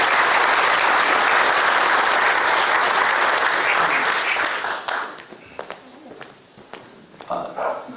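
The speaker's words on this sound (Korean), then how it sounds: "박수로 환영하도록 하겠습니다" Dense, loud applause from a gathered congregation greets guests at a Presbyterian men's mission association national breakfast prayer meeting, holding steady for several seconds before thinning into scattered claps.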